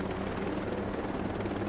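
A helicopter in the video game Ghost Recon Breakpoint, a steady loud rotor drone with a rapid chopping pulse, close and continuous, with no voices over it.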